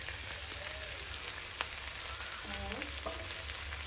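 Green chilies dropping into hot oil in a pan for a paneer dish, with onion already cooking, give a steady close frying sizzle with a few stirring clinks, no voices.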